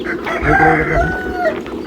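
Desi poultry farm chickens cluck close by while a rooster crows, a short burst of farmyard fowl calls with no talking.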